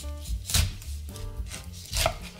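A knife chops down through the base of a pineapple on a board, giving a few distinct, close cutting thuds with short crunchy bursts in between.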